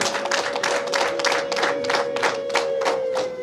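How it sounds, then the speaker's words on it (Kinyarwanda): An audience at a Kinyarwanda evening gathering claps to thank a speaker, with loud, fairly rhythmic rounds of hand claps over a steady hum, and no talking. "abo twagendanye bandiza amashyi tugushimire"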